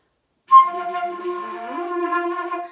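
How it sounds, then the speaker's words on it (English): A sustained flute tone with a wobbling, uneven vibrato, carrying a slightly buzzy, strained edge, played alone and fairly close. "because we don't want to start using our vocal cords to produce vibrato"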